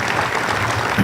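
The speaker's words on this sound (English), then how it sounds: "let's give them an applause for helping us sponsor this event" Loud, continuous applause from an audience thanking a bank sponsoring a business event on the state of the economy, a dense clapping wash with no voices on top.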